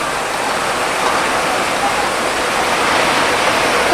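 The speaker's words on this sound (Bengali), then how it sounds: "দেখো প্রচুর জোরে বৃষ্টি পড়ছে আমাদের এখানে" Loud, dense rainfall pouring steadily, a continuous hiss of heavy rain on surfaces close by.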